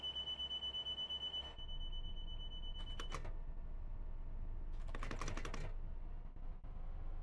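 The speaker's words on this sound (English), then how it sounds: "We're beeping because of the vigilance pedal." Repeated electronic vigilance-pedal alarm beeps in a Class 802 train cab in Train Sim World 6, in short bursts, with a steady high tone at first and clicking in between, no one speaking.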